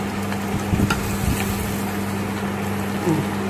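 Jaggery appam frying in hot oil after being flipped, a steady bubbling sizzle with brief louder crackles near the start, continuous and close.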